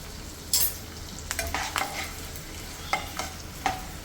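Peanuts, curry leaves and dried chillies frying in hot oil, a steady close sizzle broken by a handful of sharp scraping stirs and clinks of the spoon.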